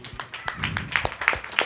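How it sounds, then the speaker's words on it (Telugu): Applause at a Christmas church celebration, a scattered crowd clapping in uneven sharp claps that build to a denser, brisker patter, moderately close with little talk over it. "అందుకు అందరికీ చప్పట్లు కొట్టాలి దయచేసి ప్లీజ్"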